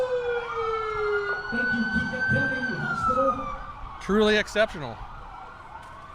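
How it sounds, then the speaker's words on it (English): Paramedic ambulance from a county health center rolling past in a small-town parade, its wailing siren sweeping up and down in the foreground alongside an announcer's voice and crowd noise, with a short horn-like blast near the end. "We have the paramedics from Keokuk County Health Center, the ambulance."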